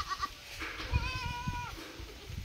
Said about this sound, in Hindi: चलिए और एक बकरी है मिल्किंग के लिए।